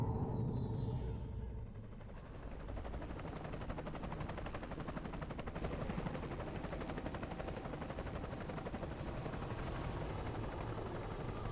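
Helicopter in the video game Metal Gear Solid 4, a steady loud rotor and engine rumble filling the whole stretch, dense and continuous with a slight dip early on.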